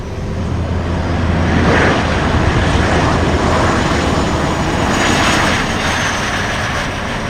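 Loud, steady engine roar and broadband rush inside a Cessna Citation 501SP business jet landing on a short runway, a sustained wash that swells and eases over several seconds without talk.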